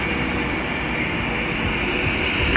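A London Northwestern Railway Euston to Northampton service pulls into Milton Keynes Central on the West Coast Main Line, a steady low rumble and hum of the train close by, swelling slightly at the end.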